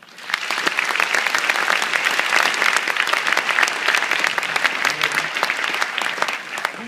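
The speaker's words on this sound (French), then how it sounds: "On peut encore l'applaudir." Sustained audience applause at a school gala following a dance performance set to music, a dense steady clapping from a large crowd filling the hall for about seven seconds.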